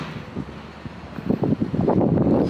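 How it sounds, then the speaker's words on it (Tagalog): Gusty wind buffets the microphone outdoors beside a house in Scarborough, a low rumbling roar that swells and grows louder toward the end, with no talking. "It's windy here."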